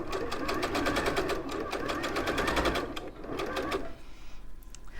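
A sewing machine runs steadily, stitching bias binding onto a homeware make, its rapid mechanical whirr close and continuous with a brief slowdown near the end.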